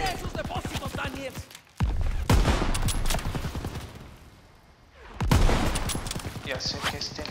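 Rapid bursts of automatic gunfire fired at fuel tanks in Call of Duty WWII, dense rattling volleys, then sharp loud reports, a brief lull and a renewed burst, with a voice speaking over the shooting.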